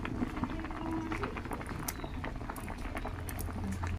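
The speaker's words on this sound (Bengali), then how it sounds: "আলু প্রায় সেদ্ধ হয়ে এসেছে" Potatoes for homemade chips boiling in a pot of water, a dense steady bubbling and popping close up that continues without a break.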